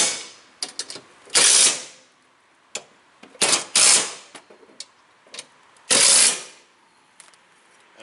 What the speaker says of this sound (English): then you just have to tighten the 4 bolts on the plate.